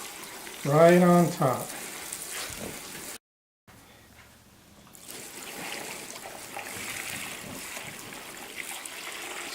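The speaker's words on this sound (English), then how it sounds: "your turkey's in there, and then you just dump your brine solution" Brine solution is poured over a turkey sitting in a bag, giving a steady, soft rushing splash that runs for several seconds after a brief spoken line and a short silence.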